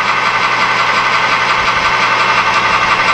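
A lathe runs up to speed for facing off a small screw, giving a steady, loud mechanical hum with a constant drone and faint vibration, close by and unbroken.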